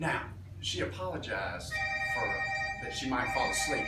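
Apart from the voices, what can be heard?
telephone ringing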